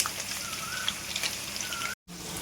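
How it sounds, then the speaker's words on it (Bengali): Potatoes fry in a pan for a Bengali home-cooked dish, giving a steady close sizzle and crackle with a brief dropout near the end and no talk. "তো দেখো এবার আমি আলুগুলোকে একটুখানি হালকা মতো লাল করে একটু ভেজে নেব"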